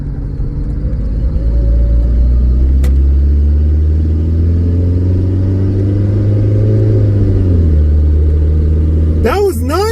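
A rescued kei car's engine drones steadily and close up, its pitch climbing and then shifting as the gearbox drops a gear, with a brief mechanical clatter right at the end.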